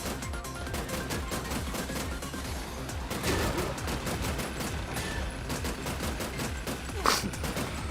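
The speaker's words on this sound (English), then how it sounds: "I'm just shooting everything" Steady, rapid gunfire in the side-scrolling action game Terminator 2D: No Fate, a constant stream of shots with scattered impacts and one sharper crack near the end, loud and uninterrupted.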